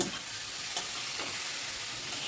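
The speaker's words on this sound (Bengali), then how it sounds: "এবারে সব কিছু ভালো করে মিশিয়ে নিচ্ছি।" A frying pan holding dal tadka ingredients with drained masoor lentils hisses with a dense, even sizzle while they are stirred together, with only faint scrapes breaking the steady noise.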